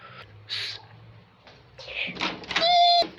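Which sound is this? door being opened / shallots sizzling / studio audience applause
door being opened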